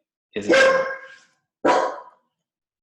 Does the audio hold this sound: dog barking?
yes